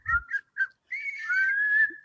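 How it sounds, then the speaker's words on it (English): A person whistles to call a dog: three short chirping notes followed by a longer rising then sustained tone, clear and close with no talking. "It sounds like you're whistling for a dog."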